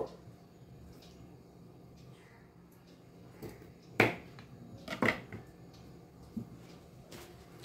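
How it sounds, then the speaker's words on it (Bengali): A knife slices through a lemon for a cucumber sharbat, giving two distinct crisp cuts about a second apart and a few lighter taps, close and fairly quiet against a faint kitchen hum. "এই লেবুটা আমি এখানে কেটে একটু দিয়ে দেব"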